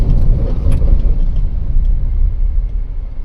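Mahindra Thar Roxx SUV braking hard from about 80 on a test drive, a loud, steady low road and engine rumble from inside the cabin with no voices.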